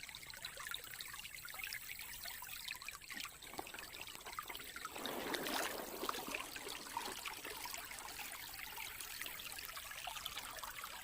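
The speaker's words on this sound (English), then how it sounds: "That is what you call an artesian well. Water, spring, whatever." Water trickling from an artesian well spring outdoors, a soft continuous dribble with a fuller gush swelling briefly near the middle before settling back to a steady light flow.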